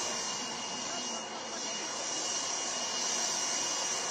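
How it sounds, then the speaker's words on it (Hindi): A Tejas Mk-1A fighter jet in flight over Nashik produces a steady, broad, continuous jet roar that holds at an even loudness throughout. "यहाँ पर तेजस मार्क 1A एयरक्राफ्ट ने अपनी पहली उड़ान भरी है"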